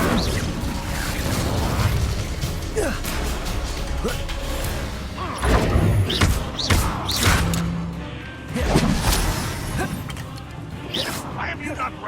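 Fiery Confringo and Incendio spell blasts in the Hogwarts Legacy video game: a dense run of thuds, crashes and whooshing impacts under constant dialogue and combat shouts, with louder bursts clustered midway and again near the end.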